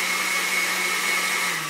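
Blender grinding leaves in water for model railroad scenery, a steady loud motor whine with a constant high tone, running continuously alone throughout.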